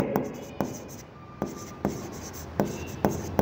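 Pen writing by hand in an accounting journal: a series of sharp scratchy strokes and taps at a steady rhythm, close and fairly quiet, with no talk over them.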